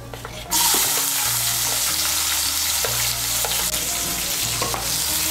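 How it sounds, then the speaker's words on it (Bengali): Chopped onion frying in hot oil makes a loud, close, continuous sizzle that bursts in suddenly and then holds steady, with faint scraping of stirring now and then and no voices. "পেঁয়াজ কুচিটাকে লাল করে ভেজে নেব"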